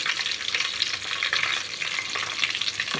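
Curry leaves crackling in hot oil, a dense, bright, close sizzle that spits and pops steadily throughout with no voices.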